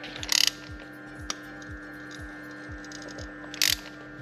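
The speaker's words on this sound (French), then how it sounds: "On entend l'arrachement de l'alu, c'est horrible." Grinding, ratcheting creaks from a seized aluminium DISA valve being forced out of a BMW 530i M54B30 engine, with rhythmic mechanical clicks, two sharp louder scrapes, and a steady hum underneath.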